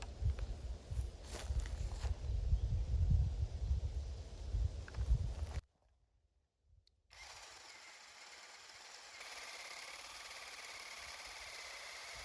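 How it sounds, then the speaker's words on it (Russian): Spade bit drilling a hole in wood with a cordless drill driver outdoors, a rough grinding, rumbling bore that stops abruptly, followed by quieter steady background noise. "Высверливаю сейчас отверстие перьевым сверлом"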